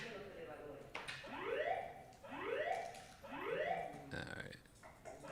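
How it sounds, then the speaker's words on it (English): A building fire alarm whoops during a backgammon tournament, the Miami Open, with about three rising swept tones repeating roughly once a second. It sounds fairly faint, and voices talk over it. "If you hear the whooping behind us, we are hoping it's a false alarm."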